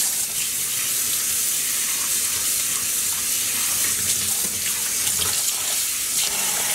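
Dyed yarn being rinsed under running tap water: a steady, loud, close rush of water flowing continuously into a sink with no talk.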